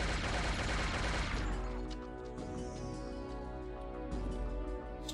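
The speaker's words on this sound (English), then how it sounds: "It's just a rocket launcher." A rocket launcher fired in the PC shooter Shogo: Mobile Armor Division erupts in a dense, loud blast that fills the opening, then decays into a ringing, rumbling tail with a layered game soundtrack underneath.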